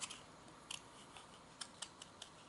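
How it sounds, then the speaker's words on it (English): Scissors make quiet, crisp snips through paper, several short cuts spaced irregularly in a soft, close indoor setting. "kind of turn your piece under your scissors as you cut"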